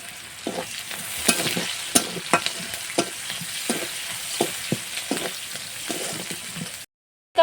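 Chopped onion and slit green chillies fry in a pan for an elephant foot yam and prawn dish, giving a loud, steady sizzle broken by regular spatula stirs until it cuts off abruptly near the end.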